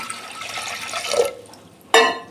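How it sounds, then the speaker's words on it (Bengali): Water poured into washed lentils in a pressure cooker, a steady splashing stream for about a second, then a brief pause and a sharp, louder splash near the end. "এই যে জল দিচ্ছি পরিমাণ মতো"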